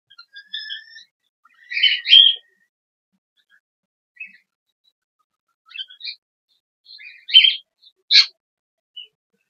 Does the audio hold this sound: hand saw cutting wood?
no